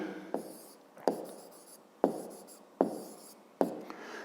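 Pen strokes scratch across paper while a math solution for a fifth-grade exercise is written down, five quick separate strokes that each start sharply and fade, close and quiet.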